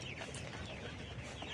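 Eighty-day-old pullet hens on a poultry farm, a dense flock whose soft, overlapping clucks and murmurs form a constant, fairly faint chatter.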